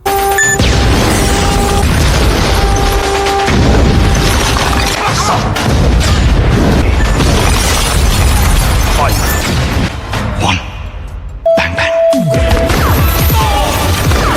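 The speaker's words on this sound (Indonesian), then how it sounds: "ledakan dari bom Rajvir aktif" A loud, sustained bomb explosion roars with crashing debris and rumbling, briefly dropping out before another burst, all very close and overwhelming.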